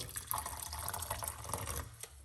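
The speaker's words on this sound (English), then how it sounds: "we are going to pour some hot water" Hot water being poured over turmeric, ginger, rosemary and clove tea in a kitchen, giving a brief, faint splashing trickle with small drips up close.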